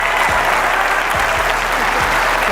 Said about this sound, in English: Let's clap it up for this pioneer.